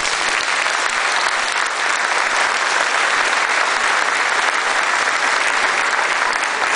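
Sustained audience applause in a market hall, a dense, even wash of clapping that holds steady and loud from start to finish with no voices over it.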